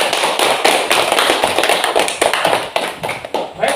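Applause in a classroom, a burst of many hands clapping in a dense, uneven patter that stays fairly loud and close for several seconds.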